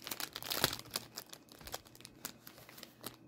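A Pokemon card booster pack wrapper being torn open and handled, producing close, sharp crinkles and crackles in quick irregular bursts, loudest early on and then thinning out.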